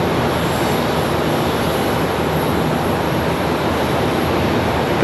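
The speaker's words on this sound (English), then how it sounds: "A couple of arrivals coming up from the south here, it looks like." An airliner arriving at Charlotte Douglas airport roars as one steady broadband engine rumble, loud and continuous throughout with no voices.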